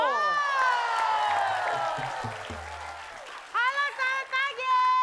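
TV studio audience applauding and cheering in a loud, dense wash, with a sustained tonal musical sting over it and sharp crowd bursts near the end.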